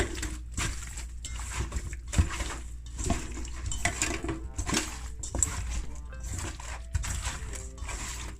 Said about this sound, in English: you want to go in and you want to mix it